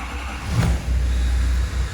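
A 2011 Chevrolet Duramax diesel engine cranks briefly and catches, then settles into a steady low idle rumble, close and fairly loud with no talking.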